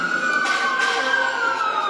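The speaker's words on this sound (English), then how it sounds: "Yeah, sirens." An emergency vehicle siren wails steadily outside near a protest by the US Department of Justice. The tone stays loud and sustained throughout.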